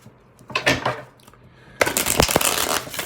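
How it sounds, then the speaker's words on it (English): Tarot cards being shuffled by hand in two quick riffling bursts, close and crisp, the second one longer and denser. "Two more shuffles."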